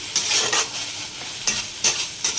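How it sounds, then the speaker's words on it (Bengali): A spice paste of turmeric, salt, chilli powder, Kashmiri chilli powder and cumin sizzles in a pan while being stirred. About five brisk scraping strokes break through the steady, close frying hiss, with no voices. "দিয়ে এখন ভালো করে মশলাটা কষাচ্ছি"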